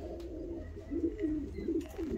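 Fancy show pigeons coo in a few soft, throaty, repeated phrases, close by and with no talk.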